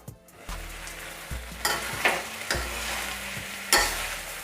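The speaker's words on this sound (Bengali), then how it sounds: "দু মিনিট নাড়িয়ে নেব।" Pumpkin and malabar spinach fry and are stirred in a pan, producing a continuous close sizzle with repeated scraping strokes and a few sharp spatula knocks at irregular intervals.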